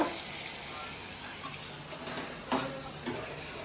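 Prawn curry frying and being stirred in a pan, a steady loud sizzle broken by a few scraping clinks of the spoon against the pan.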